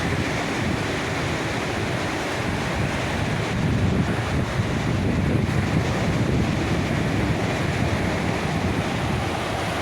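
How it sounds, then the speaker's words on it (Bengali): Large ocean waves crash in a continuous broadband roar mixed with wind buffeting the microphone, loud and steady throughout with no voices. "কি বিশাল বিশাল ঢেউ।"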